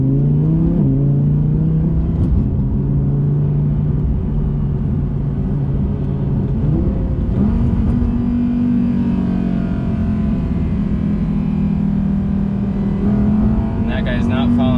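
A 2020 Audi R8 V10 accelerating onto a freeway gives a loud, steady engine drone heard from inside the car, rising in pitch about halfway through as it pulls harder.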